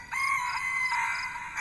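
A rooster crows once, a loud sustained call close to the listener, standing alone.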